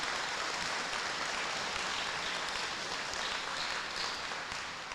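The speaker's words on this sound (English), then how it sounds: "let's give them all a round of applause" A crowd at a middle school Veterans Day ceremony applauds, a steady, faint, dense patter of many hands clapping throughout, somewhat distant.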